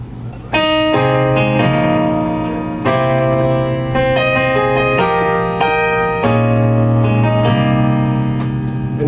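A piano plays the fourth and final part of the intro to a song: a steady sequence of sustained chords over a low bass, with fresh chords struck roughly every second, close and unaccompanied.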